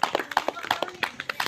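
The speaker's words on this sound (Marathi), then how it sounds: "टाळ्या वाजवा सर्वांनी" A group of students clapping together during a values class at a Sai Baba temple, quick uneven claps in a short burst, close, with voices mixed in.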